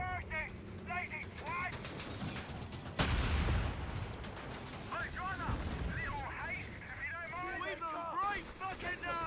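Howitzer artillery booms in Company of Heroes 3, heavy blasts with one especially strong thump partway through, mixed with scattered gunfire and battle noise while someone talks over much of it.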